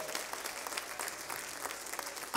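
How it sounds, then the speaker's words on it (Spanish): A church congregation claps for the Lord, dense scattered applause from a room full of worshippers, fairly soft and even throughout, with a brief louder bump at the very end. "Give the Lord a round of applause."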